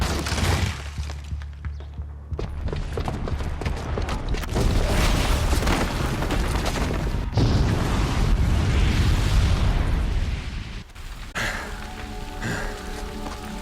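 A booby-trapped bomb goes off in Horizon Zero Dawn, a loud, sustained rumbling roar with dense crackling debris that holds for over ten seconds before easing into a quieter tail.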